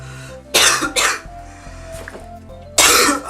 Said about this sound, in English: I'm editing out my coughs in the video